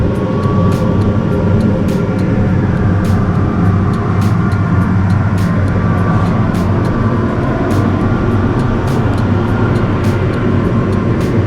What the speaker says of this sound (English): That noise you're hearing in the background is a air conditioner.